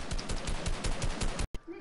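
Rapid video-game gunfire rattles in a fast, even burst of close, loud shots, cutting off abruptly before a brief quieter tail.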